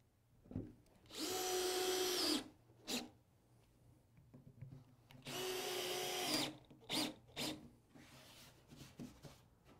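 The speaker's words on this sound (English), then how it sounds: "just going to go around and put these screws in" A power drill drives screws into a garage work bench, two long whirring runs of about a second each, plus several short bursts and pauses, close and clear.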